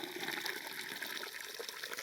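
Water is poured into wet hiking boots, a steady close gush and trickle of liquid filling the footwear, moderately quiet and continuous with no talking.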